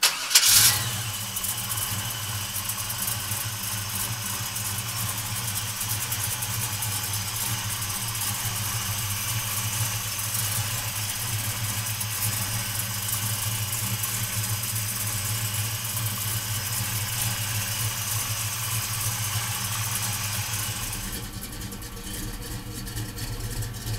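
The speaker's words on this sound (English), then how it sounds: "So come on up and we'll fire this 502 up." A 1970 Chevrolet Chevelle convertible with a 502 V8 cranks and fires up loudly, then settles into a steady, rumbling idle that holds for about twenty seconds before the tone shifts slightly near the end; no one speaks.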